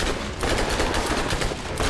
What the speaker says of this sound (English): Yeah, it's a flare gun.